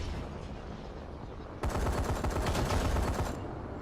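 Gunfire in the video game Call of Duty: Advanced Warfare, a dense automatic burst that suddenly erupts over a low rumbling battlefield bed, rattles loudly for under two seconds, then cuts back to the background.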